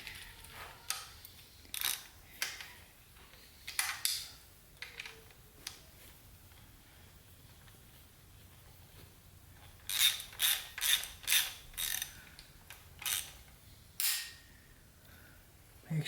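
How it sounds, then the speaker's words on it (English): A ratchet tightening bolts on a 4L80E transmission, sharp clicking bursts in short irregular runs with quiet pauses between, close and crisp in an otherwise quiet shop. "Now I want to tighten this down."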